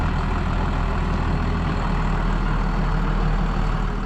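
A TM150 tractor pulling a newly bought trailer loaded with about eight tons pulls away with a steady, heavy, low engine drone. The sound is loud and continuous, with no speech over it.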